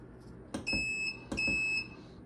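A digital kitchen-style timer beeps in two short clusters of high, sharp electronic tones, close and clear over a faint background hum.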